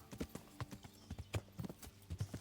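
Steady clip-clop of horse hooves at a walking pace in the video game Kingdom Come: Deliverance, crisp and close, with no voices.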